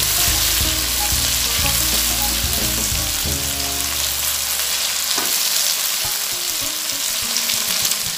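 Tomatoes frying in a pan for dhaba-style daal chana give a loud, close sizzle that crackles and spits steadily throughout, with stirring clatter early on and no voices.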